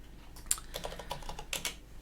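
Several crisp computer keyboard key presses, a quick cluster of clicks typed as a shortcut, close and distinct against a quiet background.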